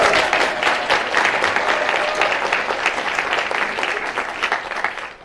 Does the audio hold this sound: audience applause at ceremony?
yes